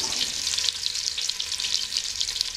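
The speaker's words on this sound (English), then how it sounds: "Add bacon to the butter." Bacon fries in butter with a little olive oil in a saucepan, a steady close sizzle with dense crackle running throughout, nobody talking.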